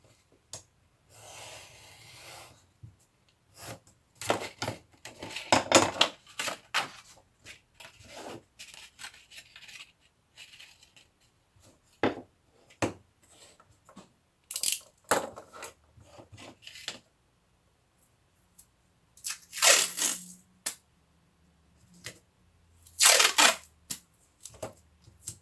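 Curb chain being cut with a hand tool: scattered short snips, scrapes and small metallic clicks in irregular bursts between quiet gaps, close and fairly faint.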